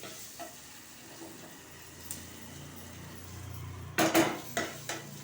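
Tempering spices sizzle softly in a pan while bottle gourd dal is cooked, a low steady fry punctuated by several sharp clinks of a metal spoon against the pan near the end.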